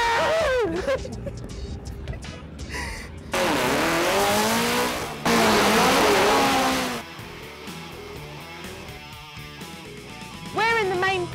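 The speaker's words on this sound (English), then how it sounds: "all the cars from Run What You Brung have to come through here in order to get to the start" Race cars from a Run What You Brung event roll through the main pit area, engines revving and tires squealing in loud bursts at close range, with voices talking over the mechanical noise.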